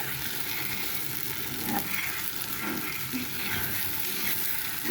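Food frying in hot oil, a continuous fizzing sizzle with soft bubbling and occasional small pops, close and steady without any talking.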